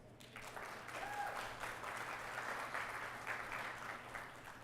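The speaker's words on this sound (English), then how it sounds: "Let's give them a big round of applause." A fundraiser breakfast crowd applauding board members and volunteers, steady many-handed clapping rising quickly and holding at a moderate level, a little distant, with a low hum underneath.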